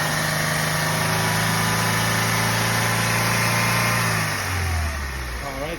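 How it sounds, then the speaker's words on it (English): Car engine under a MAF sensor test, running steadily with a sustained rev held at raised RPM, then dropping back toward idle near the end; loud, continuous mechanical hum close to the microphone. "as we apply the RPM, the airflow is going to increase"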